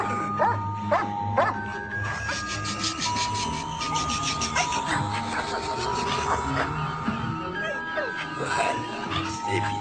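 A small dog yips and bow-wows repeatedly, close by, while people talk over it throughout.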